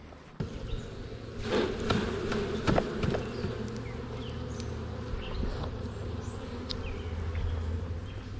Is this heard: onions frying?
no